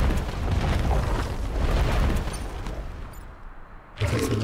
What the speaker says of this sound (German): jetzt kommt der Luftschlag, zerstört ihn noch